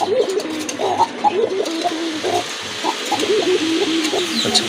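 Pair of pigeons, including large Sirazi breed birds kept for sale, cooing steadily and close by in a repeated rhythmic pattern with no talk over it.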